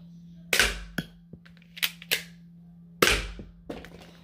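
A toy 1911 pistol fires two sharp, loud cracks a few seconds apart, with smaller mechanical clicks and clacks of the slide and handling in between over a faint steady hum.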